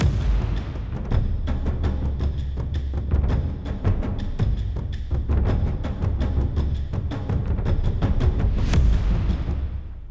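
Heavy booming processed cinematic percussion hits strike in a steady driving rhythm, deep and thunderous, with a bright crashing accent near the end.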